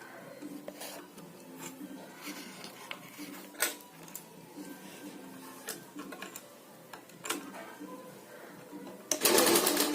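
A sewing machine stitches a handmade tassel with a close, rhythmic ticking and rattling whir, broken by sharper clicks, ending in a louder rush of noise.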